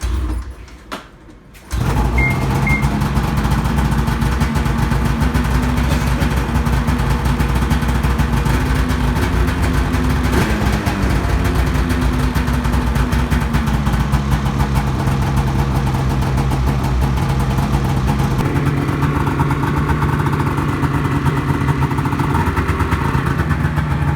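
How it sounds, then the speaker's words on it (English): Ski-Doo snowmobile in a garage during pre-season maintenance, starting with a brief cranking burst, then settling into a loud, steady idle with a slight drop in pitch partway through, continuing unbroken. "I'm gonna get all the panels closed and start up the sled."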